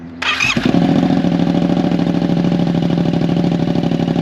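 A customized Yamaha MT-07 motorcycle engine cranks and fires up close, then settles into a loud, rumbling, steady idle.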